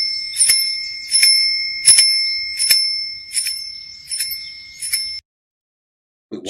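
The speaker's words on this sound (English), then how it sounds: "She's using the bell to tell her where the target is." A bright bicycle-style bell in an old advert rings in seven evenly spaced, ringing strikes, each one decaying before the next, then stops. A brief faint sound follows after a short silence.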